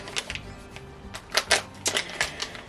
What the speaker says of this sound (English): I've just thrown the screws on the floor.